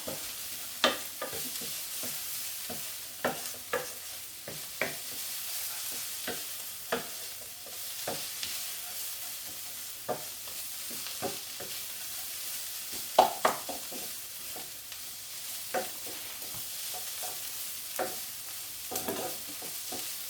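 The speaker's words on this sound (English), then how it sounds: "so just make sure you mix it all together" A fairly dry lamb kofta curry mixture sizzles softly in a pan while a spoon stirs it, giving repeated scraping knocks over a continuous low frying hiss, with no talking.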